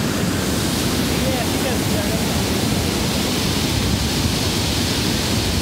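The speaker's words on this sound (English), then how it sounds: "Look at this majestic waterfall." Waterfall in Yosemite National Park, a steady, loud broadband roar of falling water that stays constant throughout, close and enveloping, with no clear talk above it.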